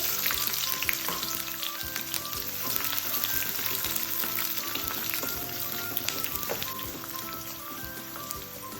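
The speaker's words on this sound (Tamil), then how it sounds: "வெங்காயம் சேர்த்து ஒரு 5 நிமிஷம் வதங்க விட்டு" Small shallots fry in hot oil with fenugreek seeds for a green chilli pulusu, producing a steady, close crackling sizzle that runs unbroken throughout with scattered tiny pops.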